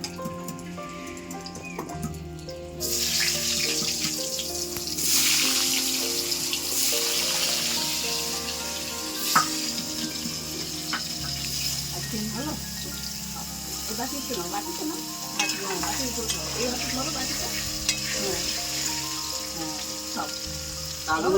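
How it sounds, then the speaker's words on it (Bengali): Potatoes frying in oil in a pan for a prawn and pointed gourd curry, a steady sizzle running throughout beneath a person talking, with occasional stirring and clinks. "এবার আলুগুলো ওরকমভাবে ভেজে নেব"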